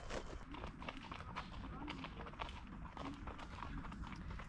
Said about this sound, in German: Nette Begegnung, zwei Pferde auf dem Besinnungsweg.